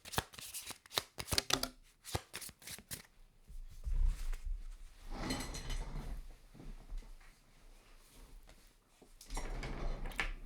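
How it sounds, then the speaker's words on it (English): Tarot cards are riffled and shuffled by hand in quick bursts of crisp flutters and taps, close up, pausing and starting again with soft handling noises between. "I think my thumb had it with the shuffling."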